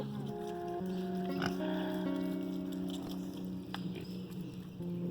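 Pigs in a muddy farm lot grunting and oinking close by, several short nasal grunts scattered through the clip over a low background of shuffling and patter.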